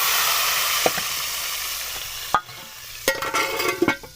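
A hot tempering of oil and green chillies is poured into lentil dal, bursting into a loud, hissing sizzle that fades, then a sharp crackle and stirring clatter near the end, with no voices.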